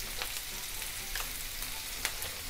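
Green chillies, ginger and garlic frying on a medium flame for matar paneer, a dense, even hiss of oil with sparse sharp pops and light stirring, moderately quiet and without voices.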